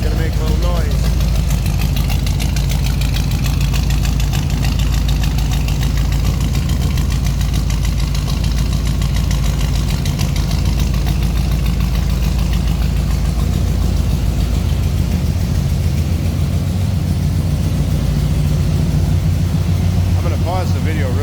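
A 1969 Chevrolet El Camino with a big-block 396 V8 idles steadily and loudly up close, a deep continuous rumble with no revving throughout.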